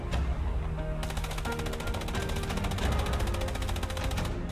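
Sustained machine gun fire in the World War II shooter Hell Let Loose, a rapid, steady stream of closely spaced shots that runs for several seconds with heavy low rumble underneath, loud and close.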